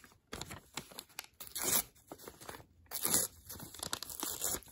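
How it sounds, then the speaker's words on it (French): Paper being torn along its edges by hand, several separate rips and crinkles up close, with short quiet pauses between the tears. "Donc voilà, on va déchirer les bords."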